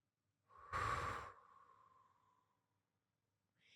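A single deep inhale taken during a breathwork exercise, a close airy rush that swells and then tapers off slowly before a faint breath at the end, heard alone in a quiet room.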